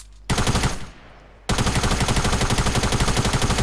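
Rapid sustained automatic gunfire in a duos battle-royale video game, loud and continuous after a brief pause, with dense repeated bursts filling the whole stretch.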